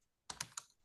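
A computer keyboard is typed on while entering a campaign name: three quick, crisp, close keystrokes in a quiet room, with no talk.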